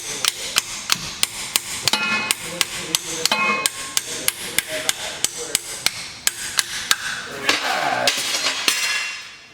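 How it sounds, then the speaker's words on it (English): Rapid, steady metallic hammer strikes repeat close by, a slide hammer banging again and again on a BMW pinion seal until a final grinding pull as the seal gives. "Got a slide hammer tool here for this."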